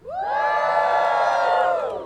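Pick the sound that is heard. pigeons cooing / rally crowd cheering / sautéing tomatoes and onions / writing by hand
rally crowd cheering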